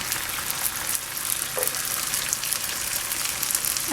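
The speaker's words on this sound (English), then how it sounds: "Now I'm just going to add this on the grill" Korean barbecue-sauced pork ribs sizzle on a hot grill, a steady close crackling hiss with fine popping that runs continuously and stays alone, with no talking.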